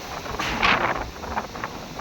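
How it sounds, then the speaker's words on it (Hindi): Stormy wind with heavy rain in Multan, a loud continuous rushing hiss that swells briefly, buffeting the microphone, with no voices. "तूफ़ानी इस वक्त हवा चल रही है और साथ ही बहुत तेज़ बारिश हो रही है।"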